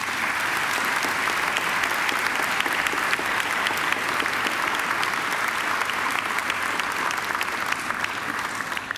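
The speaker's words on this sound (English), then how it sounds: "I think she deserves another great round of applause." An audience at a university graduation ceremony gives a singer sustained, dense applause, loud and even from start to finish with no break.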